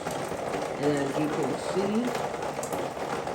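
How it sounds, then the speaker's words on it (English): Rain pattering on a tarp spread across a floor inside a house during a leak, a dense, steady hiss of drops throughout while someone talks briefly over it. "Right now, what you hear is rain falling on some tarp that I have laying down on the floor."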